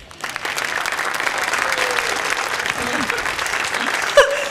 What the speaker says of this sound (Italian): Mi applaudo da sola come una bambina.